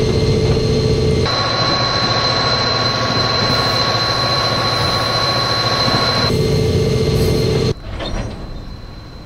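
A train in Train Simulator 2020 starts to move: a loud, continuous heavy rumble with a steady high whine, shifting in tone partway through and easing near the end.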